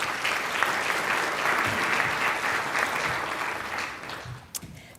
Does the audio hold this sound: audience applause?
yes